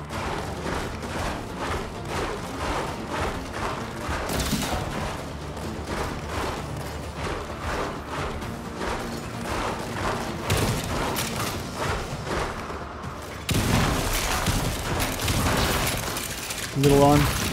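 Guns firing in the VR shooter After the Fall, a steady run of rapid thumping shots with mechanical clatter, continuing under voices and louder near the end.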